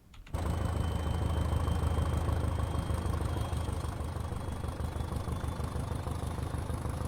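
Class 205 Thumper diesel multiple unit engine in Train Simulator, on the Brighton Main Line, running with a steady loud low rumble and thrum that holds throughout, with faint high whines above, no voices.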